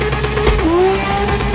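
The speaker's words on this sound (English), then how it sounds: "Alright, standing burnout." A car engine revs hard during a standing burnout, with the clutch and brake held down. The engine tone climbs and holds high, loud and close, and no voices are heard.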